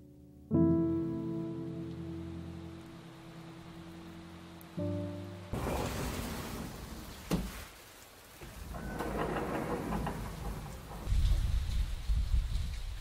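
Rain falls over a home garden in Korea as a steady hiss with scattered patter, swelling and easing over several seconds. It follows a sustained tonal musical opening.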